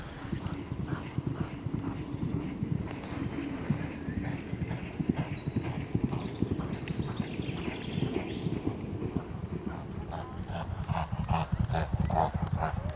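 Racehorse hooves clip-clopping steadily and close by, with occasional faint horse snorts or whinnies mixed in over a low background.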